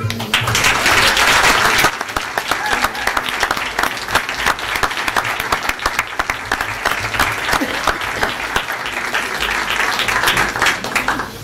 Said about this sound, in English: I'd like you all to please stand and take a round of applause